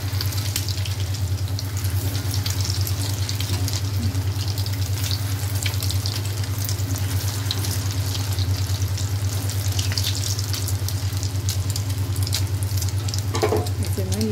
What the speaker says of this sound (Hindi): इसे मैं लो मीडियम पे फ्राई कर रही हूँ।